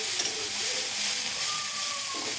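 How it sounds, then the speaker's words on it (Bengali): Sliced bitter gourd fries in hot oil in a pan in a home kitchen, giving a steady close sizzle with faint bubbling and a soft tonal hum underneath, no talking. "তারপরে এই উচ্চে ভাজাটা বসিয়েছি করার জন্য"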